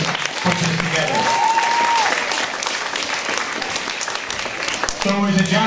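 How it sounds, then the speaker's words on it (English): Audience applause for event sponsors at a welcoming ceremony rises as a broad, continuous wash of clapping that carries on steadily for several seconds, with brief tonal sounds near the start and end. "Let's give them all a round of applause for helping put this together."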